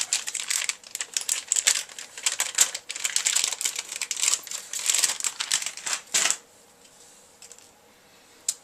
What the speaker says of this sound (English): Just give it a tear and the drive is open.